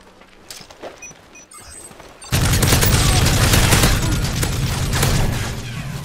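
A sentry gun in Call of Duty: Modern Warfare 3, on the Village map, opens up after a quiet stretch and keeps firing as a loud, dense, continuous burst for several seconds.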